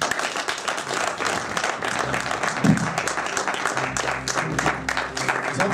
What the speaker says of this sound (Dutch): Mag ik een daverend applaus